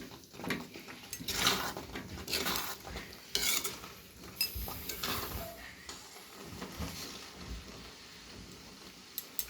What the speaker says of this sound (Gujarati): આ રીતે શાકને થોડા થોડા આપણે મિક્સ કરી દઈશું